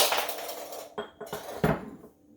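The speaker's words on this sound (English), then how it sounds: "I just dropped my whisk." A metal kitchen whisk drops and clatters, a bright ringing crash followed by several smaller bouncing clinks and rattles that fade out over a couple of seconds, close by and with no talking.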